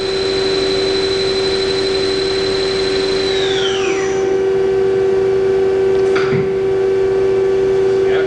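A Takamaz X200 CNC lathe spindle, built in 2003, spins up with a rising whine and settles into a steady loud hum at 2000 RPM, with a sustained tonal drone and a brief burst of noise near the end.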